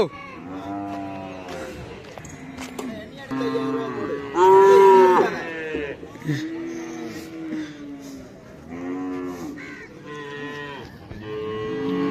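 Cattle moo repeatedly at the Valliyur livestock market, several animals calling near and far in a busy crowd, one loud close bellow standing out midway, with people talking throughout.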